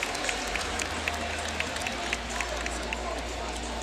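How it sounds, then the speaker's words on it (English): A crowd at a women's college basketball championship game in New Orleans applauds a player returning from injury, a steady wash of clapping and murmur with faint sneaker squeaks, moderately loud and continuous. "she gets a nice hand from this crowd in New Orleans"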